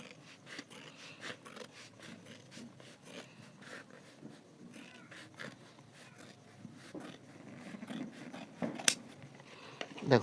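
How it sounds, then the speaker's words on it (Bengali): Scissors cutting through the fabric of a dotcom bag, a steady run of quiet snipping and rustling scrapes, growing a little louder toward the end, with no talking. "আমি এই পার্টটাকে কেটে দিলাম"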